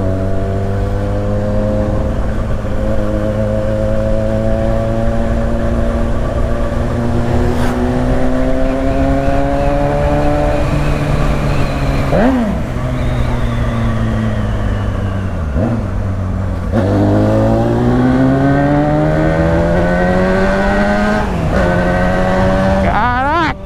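A carbureted Honda Hornet 600 motorcycle engine riding out in Poços de Caldas, a loud, close, continuous drone that climbs in pitch through repeated runs, dropping sharply at each gear change before revving up again.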